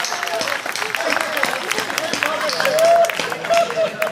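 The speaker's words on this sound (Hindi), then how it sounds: "और ताली इस बात पे पूरा सदन बजाएगा" An audience claps at a Hindi comedy poetry gathering, a crowd's applause rising and swelling toward the end, mixed with voices and cheering from the hall.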